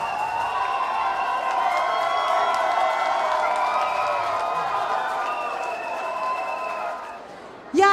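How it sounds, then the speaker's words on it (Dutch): An audience at a talent show finale applauds and cheers: a dense, continuous wash of clapping with scattered shouts and whistles, steady and fairly loud throughout before a brief sharp burst at the end. "applaus"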